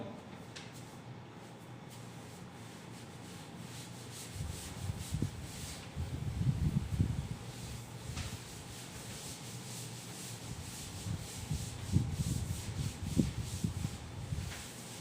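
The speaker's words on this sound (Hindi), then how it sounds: "चलिए इसको अब मैं रब कर देता हूं।" A classroom board being wiped clean of writing, with a soft rubbing swish that swells in two longer bouts over a quiet room.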